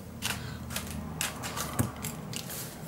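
Paper being cut for a mini album makes a series of short, crisp scraping and snipping strokes in an irregular rhythm. The strokes are close and fairly quiet.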